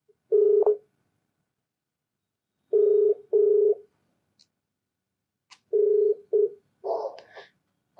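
Telephone dialing for a phone-in call on a radio program: short clean tone beeps in bursts, with a pause between groups, then a ringback tone, near and clear against silence.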